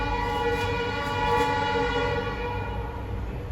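A train rumbles past on tracks right beside a house in Jaipur, a steady loud roar of wheels and carriages filling the whole moment with no pause.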